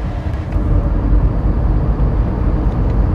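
Inside a 2022 Tata Punch with a three-cylinder engine, a steady low engine and road drone fills the cabin, with a muffled rumble at moderate loudness and no talking.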